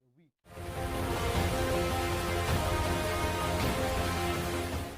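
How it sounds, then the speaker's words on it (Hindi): Heavy rain in Cherrapunji, a dense steady hiss and patter that starts abruptly and stays loud and close throughout, with a voice briefly audible at the very start. "आप यहां इतनी बारिश देख सकते हैं"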